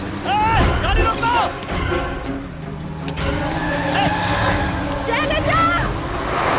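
A car driving and skidding, with engine noise and tire squeal rising and falling in several bursts, while raised voices shout over the motor throughout.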